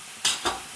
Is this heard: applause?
no